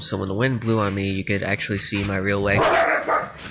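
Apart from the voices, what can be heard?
dogs barking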